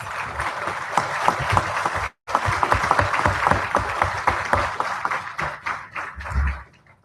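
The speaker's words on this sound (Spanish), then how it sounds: "Les pedimos, por favor, un fuerte aplauso" Audience applause at a forum on children's and adolescents' rights, welcoming a doctor speaker; steady clapping runs throughout with a brief dropout, then thins and fades toward the end.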